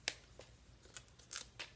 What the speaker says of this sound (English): So I have my scissors. I'm going to give it a few snips.